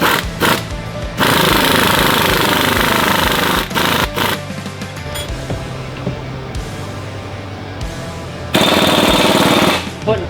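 An impact gun hammers on the steering taper of a RAM 2500/3500 during a steering kit install, sounding in long loud rattling bursts with short pauses between them, close up.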